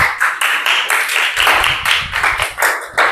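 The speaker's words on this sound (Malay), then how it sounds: "Tepuk tangan." A class of pupils claps hands together in a microteaching lesson, bursts of clapping rising and falling in quick uneven waves for a few seconds, fairly loud and close.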